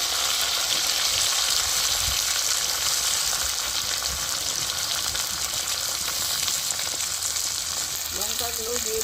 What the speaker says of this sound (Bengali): মাশরুম ভাজা তেলেই আমি পরকে পর সব দিয়ে দিচ্ছি। পেঁয়াজগুলো আগে দিয়ে দিচ্ছি